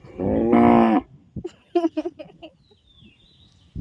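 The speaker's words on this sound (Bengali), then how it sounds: "তো মাঠে গরু নিয়ে যাচ্ছি" A cow being led out to a field gives one loud, close moo, followed by a few shorter animal calls and soft rustling.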